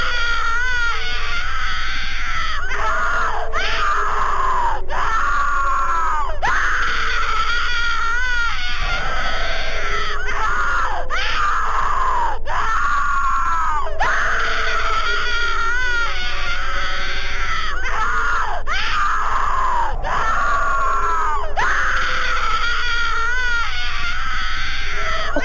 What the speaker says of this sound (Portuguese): Por que tem o som de mulher gritando igual o daquele passo